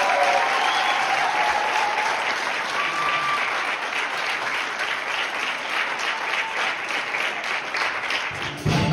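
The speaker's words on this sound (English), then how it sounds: "would you clap your hands loudly?" Audience at a church Christmas event clapping loudly and steadily for about nine seconds, a dense sustained wash of hands with a faint murmur of voices underneath, tapering off at the very end.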